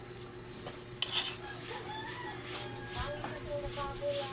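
Plates and dishes clink and clatter while someone washes them at home, with sporadic light knocks over a steady background murmur, a rooster crowing nearby and people talking.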